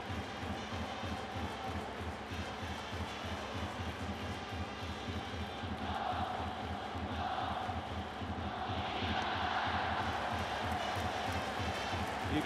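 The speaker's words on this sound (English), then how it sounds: "You can hear the crowd in full throat right now with the Ibata chant." A baseball crowd at a Japan versus Chinese Taipei game chants the Ibata chant in steady rhythmic pulses, a dense roar of voices filling the stadium and swelling louder toward the end.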